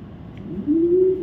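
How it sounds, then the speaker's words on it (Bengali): A male racing pigeon gives a single short, soft coo that rises and then holds steady, close by and fairly quiet, over faint background noise. "একটা নর কবুতর"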